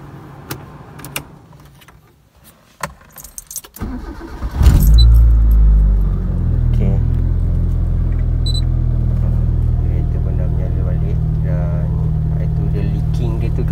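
A Proton Satria car, long parked, cranks over after a fresh battery is fitted and catches, settling into a loud, close, steady idle rumble. Faint clicks and rustling come first.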